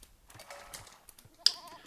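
A sheep bleats once, short and wavering, in the video game Age of Empires II. Faint clicking comes before it, and the bleat follows a brief sharp tick.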